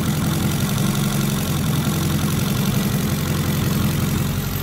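A hot rod engine without an idle motor settles into a steady, low, rumbling idle, set by a hand-adjusted screw. It runs evenly and fairly loud for the whole stretch, with no talking over it.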